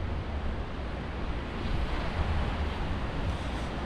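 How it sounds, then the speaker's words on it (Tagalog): Strong ocean surf rolls onto a sandy beach near a campsite, a continuous loud wash of breaking waves with rumbling low roar and wind buffeting the microphone throughout, no voices. "Lakas ng alon."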